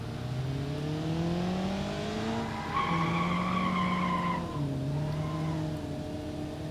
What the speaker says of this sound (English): Yeah, that's right, this thing can drift.